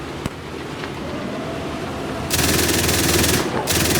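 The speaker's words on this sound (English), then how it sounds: "let's switch to my machine gun" Rapid machine gun fire from a Marder A1 German infantry fighting vehicle in a video game, a dense sustained burst starting partway through, then a brief pause and another burst over a low rumbling background.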